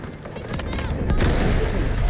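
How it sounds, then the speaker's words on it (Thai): Rapid bursts of AKM rifle fire in the video game Delta Force, sharp repeated cracks building in density and loudness across the moment, mixed with game sounds and a voice talking over it. "ยิงยับยับเลยว่ะ"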